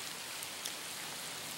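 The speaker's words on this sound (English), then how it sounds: "I don't think I quite need my my rain pants yet, but it's starting to come down pretty good" Steady rain pattering down during a hike on an outdoor trail, a dense, continuous hiss with no voices, fairly soft throughout.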